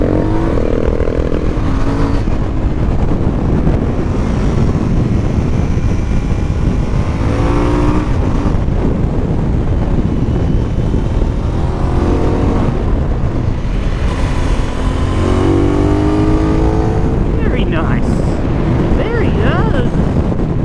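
Aprilia Dorsoduro 900 motorcycle, a 2018 model, riding through twisty roads, its engine droning steadily and rising and falling through bends, heavily buffeted by loud wind noise for the whole ride.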